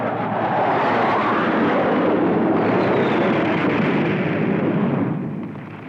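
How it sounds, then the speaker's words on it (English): Sabre jets strafing with gunfire and explosions, a loud, dense, continuous roar of blasts and engine rumble that fades slightly at the end, with no voices. "The Air Force is sent in with Sabre jets to strafe and terrify the population."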